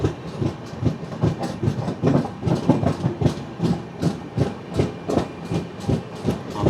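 A Humsafar Express train at Ambli Road station gives a loud, steady clickety-clack of wheels over rail joints in a regular repeating rhythm, heard close up with no talking.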